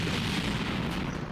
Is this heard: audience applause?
no